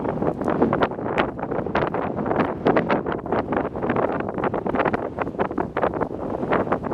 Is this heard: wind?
yes